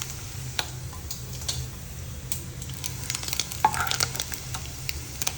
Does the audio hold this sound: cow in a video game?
no